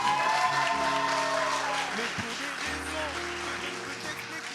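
Audience applause at a televised music talent show, a dense burst of clapping that starts strong and slowly tapers, with a sustained musical chord and some voices underneath.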